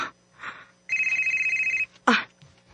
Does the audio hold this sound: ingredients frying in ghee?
no